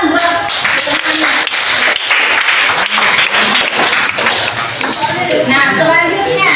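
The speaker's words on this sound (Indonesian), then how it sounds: "tepuk tangan buat temannya" Classroom applause for a classmate, loud and close, a busy patter of many hands clapping throughout, mixed with children's voices and chatter.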